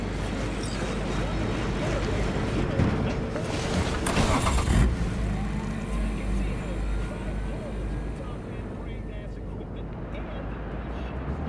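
Car driving in the video game Cyberpunk 2077, a steady low engine rumble with road noise running throughout, with a voice speaking over it.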